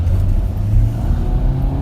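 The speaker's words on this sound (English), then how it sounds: "there's a car coming down" A car moves along a city street behind a street cleaner, with a steady, close engine rumble and low road noise that holds for about two seconds.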